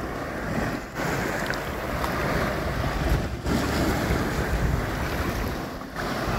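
Wind buffets the microphone on an open beach at Nr. Vorupør while waves wash and surge steadily, a loud continuous roar of surf with brief dips in the gusts.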